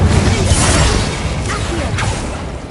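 Incendio fire spell being cast in Hogwarts Legacy: a loud rushing whoosh with crackling burst and mechanical swish, fading over a couple of seconds.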